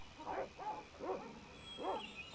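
Dogs bark in the game The Shadow of the Templars, four separate barks spaced about half a second apart at moderate volume, with no talk over them.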